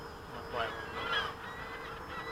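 Geese honk in two short rising calls, faint and moderately distant over a steady background hum, with no other clear sounds.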